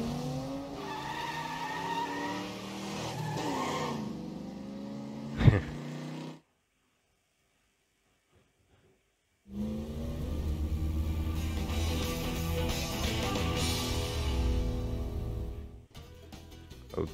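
Race cars in the Cars PC video game roar and skid with squealing tires, loud revving engine tones sweeping up and down, a sharp impact, then a silent gap before the engines and skids resume.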